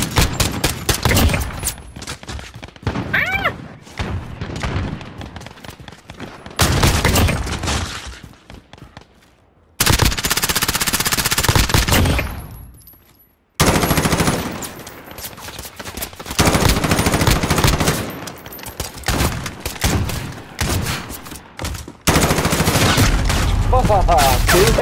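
Rapid bursts of automatic gunfire and single shots from Call of Duty: Modern Warfare gun game, loud and dense through most of the stretch, broken by brief quiet gaps and a few thuds.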